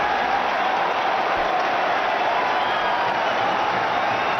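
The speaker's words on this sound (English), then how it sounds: "Nice round of applause" Loud, steady crowd applause with some cheering fills a cricket stadium in Dhaka as India reach 200 against Pakistan in a 2012 Asia Cup match, sustained and unbroken throughout.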